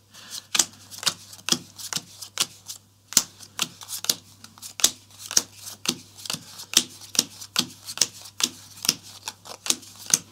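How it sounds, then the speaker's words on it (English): Aventuria game cards being shuffled at a tabletop game session, a steady run of crisp riffling snaps and flicks repeating over and over, close and clear with no voices. "These are the ones that are shuffled right now, and every one of you will get these cards."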